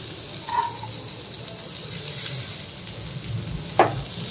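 Tomatoes frying in a pan, a soft steady sizzle running throughout with a couple of brief clinks or stirs, nearby and fairly quiet.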